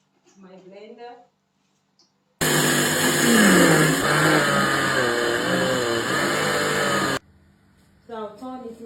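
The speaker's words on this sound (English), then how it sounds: "So off I go to my blender." An electric blender whirs loudly and steadily for about five seconds while blending gbegiri soup ingredients, starting and stopping abruptly, with brief speech before and after.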